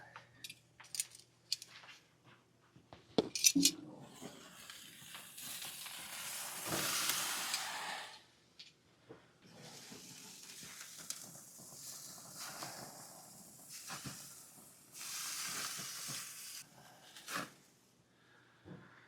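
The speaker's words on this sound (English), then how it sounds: "Our gas grill steak still has a little ways to go, so we'll just keep cooking her through." Steak sizzling on a gas grill in freezing cold weather: a faint, steady hiss with intermittent crackles and a few clanks of tools or the lid, swelling into louder sizzle bursts at times, with no talking.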